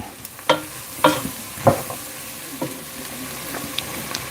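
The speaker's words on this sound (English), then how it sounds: "You're essentially making a roux. And since you using flour, you want that flour to cook out." A flour roux for soup sizzles in a pot while a spoon stirs it, with several distinct scraping strokes over a continuous close frying hiss and no speech.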